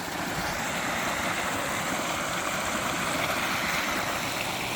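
Flood water from days of heavy rain and mountain runoff rushes past a house in a loud, continuous, broadband roar with no pauses.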